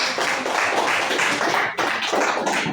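Audience clapping after a talk, dense and fairly loud, with a brief dip partway through before the applause picks back up.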